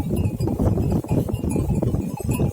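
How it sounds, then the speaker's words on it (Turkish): A flock of sheep and lambs feeds on barley straw, with close, busy rustling, chewing and bell clinks, and occasional bleats in a steady jumble. "Bakın böyle arpa sapı yiyor işte kuzular, koyunlar."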